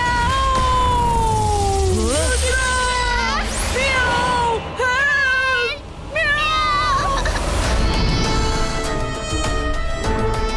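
A cartoon character's voice imitates a cat's meow, with pitched gliding meow-like calls repeated several times over busy background music and effects, loud and close throughout.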